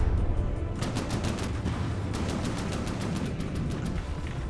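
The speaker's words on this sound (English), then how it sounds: "Yep, very big explosive rounds" Big explosive rounds from a naval gun in the From the Depths game fire in a rapid series of sharp, repeating bangs over a dense, rumbling battle background, with no voices present.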